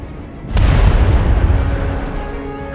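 A loud, sudden explosion of boxes of explosives that booms and then rumbles on, a heavy roar of debris and crackling lingering for a couple of seconds.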